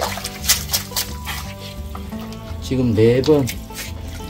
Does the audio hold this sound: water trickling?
yes